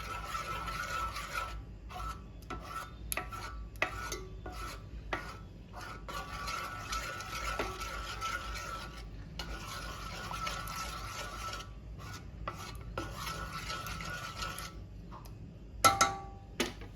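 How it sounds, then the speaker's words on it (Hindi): A chicken mixture for creamy Turkish-style chicken is stirred in a pan, with steady scraping and intermittent light clinks of the utensil against the pan, fairly close, and a sharper clatter near the end. "अच्छे से हमें इसे मिक्स कर लेना है।"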